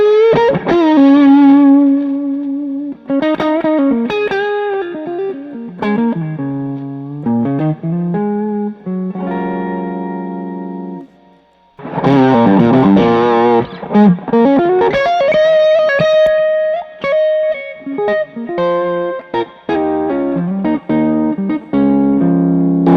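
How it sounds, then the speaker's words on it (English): An electric guitar plays a melodic run of sustained single notes and short phrases, loud and saturated with effects, pausing briefly midway before continuing. "you can go to the neck pickup and get a fairly clear rhythm sound"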